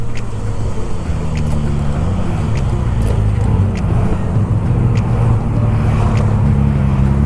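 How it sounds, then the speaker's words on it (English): Steady road traffic rumbles just outside a tunnel, a dense continuous wash of passing cars with no break across the whole stretch, loud and close. "traffic outside the tunnel just hits very quickly"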